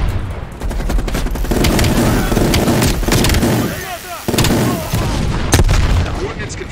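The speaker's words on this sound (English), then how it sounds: "Bombing strike imminent." Bombing strike in Call of Duty: Black Ops Cold War: loud, continuous barrage of explosive booms and rattling gunfire, with heavy low rumble throughout and a brief dip near the middle before blasts resume.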